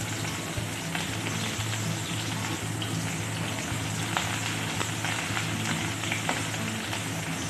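Onions frying in hot oil for an Assamese taro-leaf curry with mango pieces, a steady dense sizzle with small crackles throughout, close and continuous with no talking.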